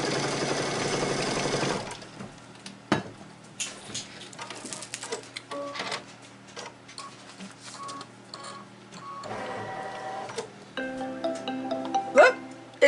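A Kimberbell embroidery machine stitching the tack-down line for the backing piece of a cozy wall hanging, a busy run of rapid needle patter and mechanical ticking that starts loud, then continues softer with shifting bursts.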